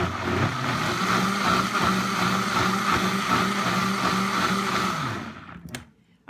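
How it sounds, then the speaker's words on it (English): Blender running steadily at high speed through a batch of verde enchilada sauce made with vegetables, a loud continuous whirring that cuts out near the end. "And as you can see, it's blending."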